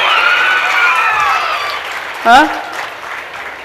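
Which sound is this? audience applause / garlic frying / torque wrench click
audience applause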